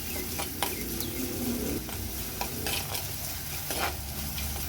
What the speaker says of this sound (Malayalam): വെളിച്ചെണ്ണ ചൂടായിട്ടുണ്ട് അതിലേക്ക് നമ്മൾ ചോപ്പ് ചെയ്ത് വെച്ചിരുന്ന ചെറിയ ഉള്ളിയും ഇഞ്ചിയും വെളുത്തുള്ളിയും കൂടെ ഇവയാണ് ഇത് നന്നായിട്ടൊന്ന് വാട്ടിയെടുക്കണം